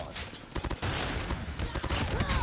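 Dense bursts of rapid gunfire from the Call of Duty Mobile video game crackle continuously and loudly for a couple of seconds, with shots overlapping into a near-constant barrage.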